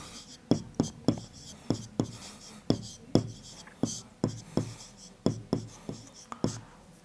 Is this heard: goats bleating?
no